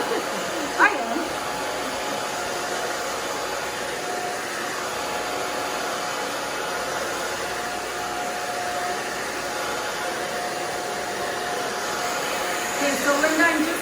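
A hair dryer runs as a steady, loud, continuous whoosh while hair is blow-dried in a salon for volume, holding nearly unchanged throughout, with faint speech now and then beneath it.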